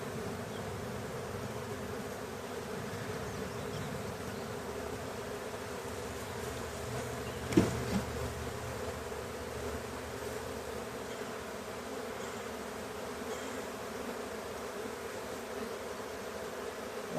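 A honeybee swarm hums steadily inside a tote, a continuous dense buzz that holds even throughout, with a brief knock or bump partway through.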